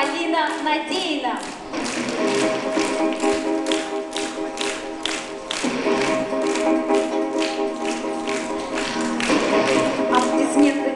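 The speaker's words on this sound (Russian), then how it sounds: "Аплодисменты не смолкают, так музыки мы не слышим" Applause from the audience at a beauty contest, steady rhythmic clapping that carries on throughout, with tonal music underneath.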